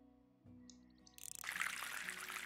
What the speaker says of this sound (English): I turned on the water before I put the thing on